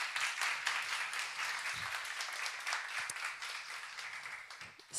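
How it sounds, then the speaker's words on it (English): Dense, sustained audience applause fills the room at a Vacuum Deep Tech Acceleration live-streamed event, a steady wash of many hands clapping at moderate distance throughout, with no speech over it. "that's a big round of applause for all of you for being here today"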